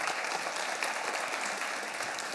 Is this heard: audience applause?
yes